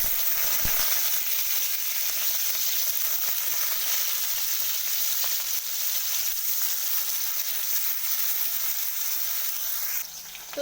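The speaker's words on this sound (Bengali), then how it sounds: "এরপর আমি দিয়ে দেব পেঁয়াজ কুচিটা" Finely chopped onion frying in a pan, a loud, steady hiss and crackle that stays constant and cuts off abruptly at the end.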